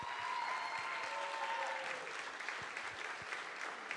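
Sustained applause from an audience, dense steady clapping filling the room, with a faint tonal hum underneath.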